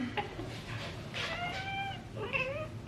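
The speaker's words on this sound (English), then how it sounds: "She was meowing at 7 a.m." A pet cat named Willow meows indoors early in the morning, a few drawn-out rising and falling cries close by, the last one longer and more insistent.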